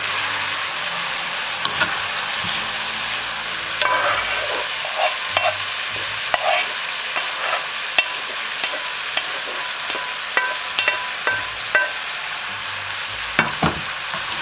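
Seafood frying in a pan with a steady sizzle, broken by frequent scrapes and light clinks as it is stirred, close and continuous with no talk.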